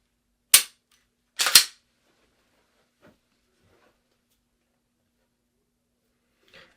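Gunshots fired during point shooting practice at targets: one sharp crack followed by two quick shots in succession, loud and close, then near silence with faint clicks.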